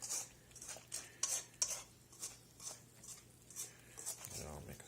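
Bagel dough made with warm water, mixed in a bowl with a utensil, giving soft irregular scraping and clinking taps against the bowl, quiet and close, with a short bit of talk near the end.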